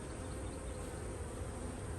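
Bees buzz steadily at a beehive in an apiary, a dense continuous drone held close and even throughout, with no voices.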